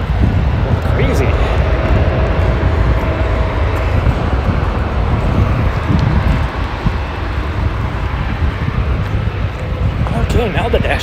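Airplanes fly low over Gravelly Point beside the airport, a steady loud roar that holds throughout, mixed with gusty wind buffeting the microphone outdoors.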